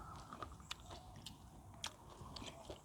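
Crunchy biting and chewing of fresh raw vegetables dipped in nam prik ong, Thai northern pork-and-tomato chili dip, with sticky rice; close, sharp crunches scattered irregularly over a quiet background.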